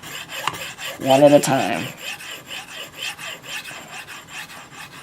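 Knife blade sharpened with light strokes on a stone, a soft rhythmic rasp repeating about every half second, with one firmer louder scrape near the start and brief speech.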